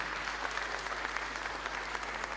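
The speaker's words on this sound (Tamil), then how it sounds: "ஒருமுறை எல்லோரும் சிறப்பாக உங்களுடைய கரகோஷங்களை வழங்கிக் கொள்ளலாம்." An award-ceremony audience applauds in a dense, even clatter of many hands, held at steady loudness for a couple of seconds beneath a low constant hum.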